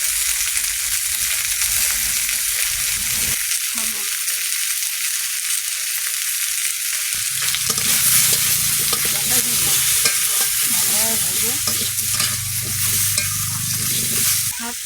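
Vegetables with green chillies and salt frying and being stirred in a pan, a steady close sizzle with scraping stirs throughout, no talk.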